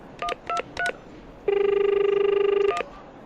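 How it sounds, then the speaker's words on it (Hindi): Three short keypad tones from a telephone being dialed, then a longer steady ringing tone that lasts over a second, close and clear in a quiet room. "ये फ़ोन से उन्हें फ़ोन लगाओ"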